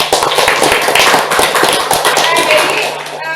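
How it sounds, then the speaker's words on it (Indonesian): Participants in a coding and artificial intelligence training session clap together, a loud close burst of rapid overlapping claps with voices mixed in. "terima kasih tepuk tangan dulu dong"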